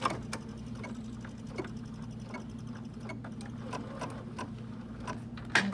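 Embroidery machine stitching with green thread, a fast, steady mechanical ticking and whirring hum that runs continuously and quietly with regular clicks.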